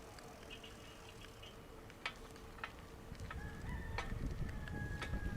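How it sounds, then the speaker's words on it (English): Chickens cluck softly in the distance over a low outdoor hum on quiet Key West back streets, with a few sharp clicks and a rising background murmur toward the end. "Of course, you can hear the chickens."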